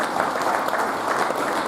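An audience applauds winners of an athletics event at a sports prize ceremony, a short burst of dense, steady clapping from a crowd.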